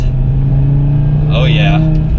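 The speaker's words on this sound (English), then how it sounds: "hopefully you guys can hear that exhaust" An Audi TT RS exhaust rumbles loud and close in a steady low drone, with a brief rising burst midway as it revs while driving; a voice talks over it.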